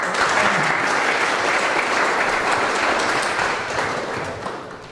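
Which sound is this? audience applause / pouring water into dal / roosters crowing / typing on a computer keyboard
audience applause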